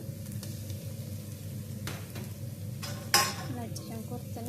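Garlic dropped into hot oil in a pan while cooking salona fish, a steady frying sizzle with a few utensil clinks and a sharp clatter near the end, heard beneath a woman's speech.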